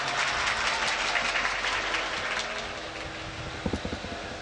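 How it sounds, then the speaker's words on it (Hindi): At a mushaira in Dasna, the audience gives a poet a loud, dense round of applause as he is welcomed. The clapping thins near the end into a few distinct, closer claps. "आप जोरदार तालियों से उनका इस्तकबाल कीजिए"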